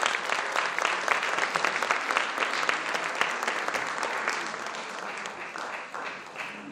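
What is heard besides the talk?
audience applause at a concert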